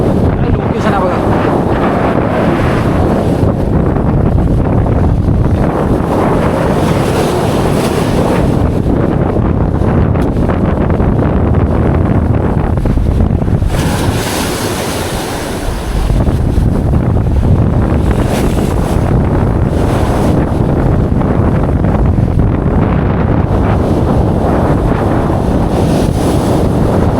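Sea waves and strong wind roar at Korlai Port, a loud continuous rush of surf with heavy wind buffeting the microphone throughout, easing only briefly midway.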